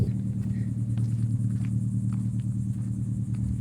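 A car passes nearby on a residential street, a steady low engine rumble at moderate loudness with no voices.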